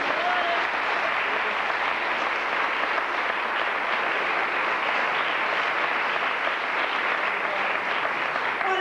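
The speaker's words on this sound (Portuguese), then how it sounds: "Vamos aplaudir o Senhor." A church congregation at a baptism service claps together in steady, dense applause that holds at an even level throughout, with no pause.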